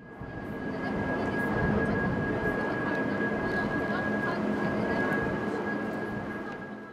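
A military helicopter sets down during a naval mine-clearing exercise, a steady loud rotor and engine roar with a thin whine that holds throughout, with a voice faintly underneath.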